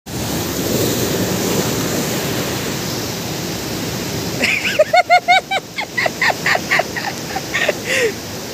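Ocean waves at Devgali beach in Kasheli wash in as a steady broad roar, loud and close. Partway through, a run of sharp, high, repeated calls rises above the surf.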